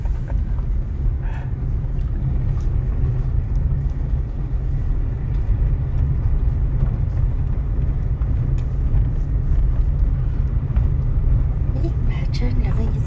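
A car rumbles along a bumpy gravel road in a small Free State town, a steady low road noise with faint rattles throughout, while people talk over it.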